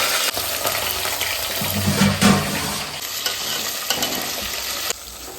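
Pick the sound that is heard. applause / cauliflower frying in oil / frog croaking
cauliflower frying in oil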